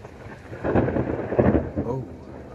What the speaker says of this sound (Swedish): Riktigt smäll, alltså det dånar riktigt ordentligt en gång i alla fall.